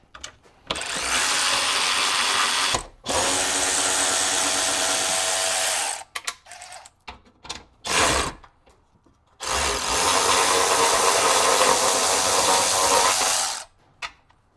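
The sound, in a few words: DeWalt power tool removing Jeep fender bolts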